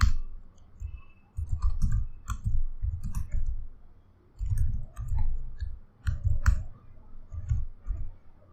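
Soft, steady keyboard typing while Java code is entered, the keys clicking in uneven clusters and short pauses, close and fairly quiet with no talking.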